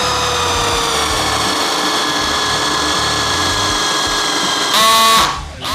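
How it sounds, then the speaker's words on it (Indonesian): Cordless drill in second gear boring into wood, a steady loud whine with harmonic tones that holds for about five seconds, then surges briefly and cuts out as the bit stalls. "Kita coba pengeboran ke kayu ini."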